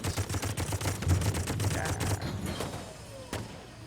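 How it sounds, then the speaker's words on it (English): An officer in the Toy Soldiers video game fires his pistol amid battle, with rapid bursts of gunfire and sharp shots in dense succession that thin out toward the end, loud and close. "He's just kind of chilling out over there, randomly shooting his pistol."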